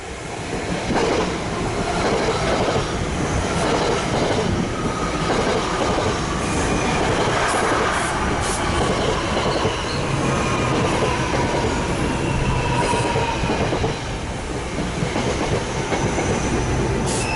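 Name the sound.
NJ Transit ten-car train coming to a stop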